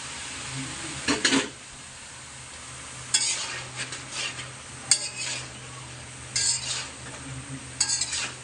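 Papaya being stirred into cooked green spice masala in a pan for a papaya and egg bhuna: several short, distinct scraping bursts of a utensil against the pan, with a soft, steady sizzle running between them.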